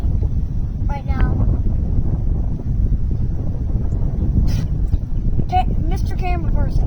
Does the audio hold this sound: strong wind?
yes